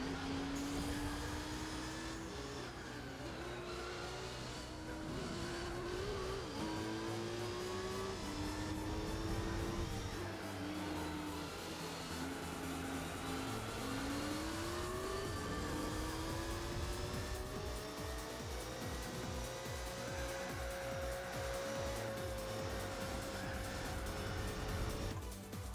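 Racing engines in Gran Turismo 4, including a Mazda RX-7, whine steadily with rising and falling pitch as gears shift, a continuous close drone with overlapping car sounds throughout.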